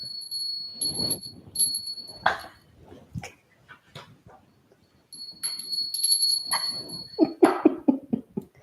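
A small bell rings twice, each time a bright, sustained high chime lasting about a second, with clattering handling noises and quiet knocks in between.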